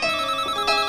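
A telephone rings in a scene from an Iranian feature film, giving a brief electronic ringtone of bright, steady tones in two quick pulses, with no voices.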